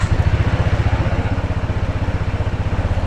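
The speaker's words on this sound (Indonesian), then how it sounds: "Coba kita nyalain ya motornya ya." Honda PCX 160 ABS scooter engine running at a steady idle, a loud, close, rhythmic low putter that continues evenly throughout with no talk.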